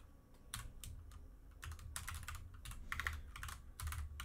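Close, quiet keystrokes on a computer keyboard as a line of C# code is typed, coming in quick irregular bursts with short pauses between them, with no voices.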